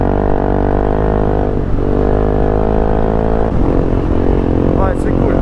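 A Yamaha XTR 660 motorcycle's single-cylinder engine drones steadily and loud on a first test ride, its pitch dipping and rising with throttle changes, close and continuous throughout.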